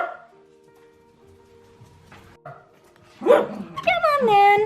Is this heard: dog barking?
yes